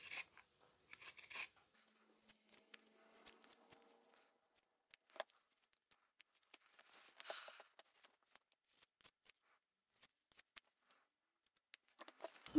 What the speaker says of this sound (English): Now we can cut all of these triangles out,